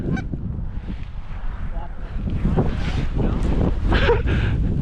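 Geese honk across snowy open ground during a goose hunt, scattered calls rising and falling over steady wind rumble, with a brief muffled voice in between.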